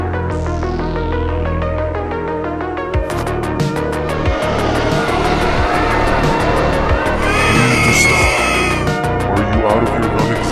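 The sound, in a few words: vehicle skidding and crashing in the video game Garten of Banban 7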